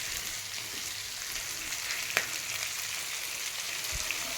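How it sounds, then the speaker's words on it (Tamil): Ginger garlic paste fries in a pan with a steady, even sizzle throughout, broken by a couple of faint clicks from a utensil. "அடுத்து வந்து நம்ம இஞ்சி பூண்டு பேஸ்ட்டு போட்டுக்குவோம்"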